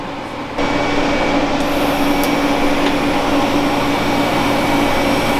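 A TIG torch fuse-welds metal for race car fabrication without filler rod, a steady loud hiss and hum that kicks in after a brief quieter start and holds evenly throughout.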